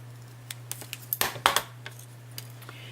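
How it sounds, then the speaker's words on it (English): Scissors fussy cutting around a cardstock piece for a handmade Christmas card: a string of small, sharp snips close by, clustered in the middle then spacing out over a faint steady hum. "Just fussy cut around."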